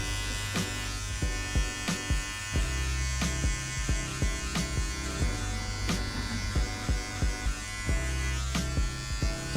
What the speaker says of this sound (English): I just angle my clippers backwards and I blend into that hair above